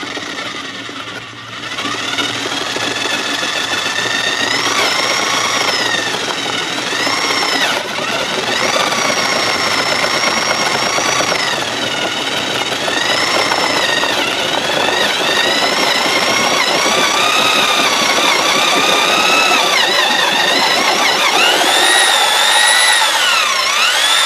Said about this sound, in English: this is that Harbor Freight 1/2 inch drill that I did a review upon, low rev